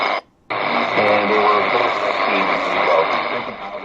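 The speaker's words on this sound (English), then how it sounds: "Sound of Hope is on this frequency, and again China National Radio jamming them" Shortwave broadcast of Sound of Hope on an XHDATA D-109 receiver being jammed by China National Radio, a dense roaring wash of music-like noise and garbled audio after a brief cut, loud and continuous.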